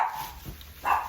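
Dogs barking indoors, two quick yips spaced about half a second apart, moderately near, with no talk over them.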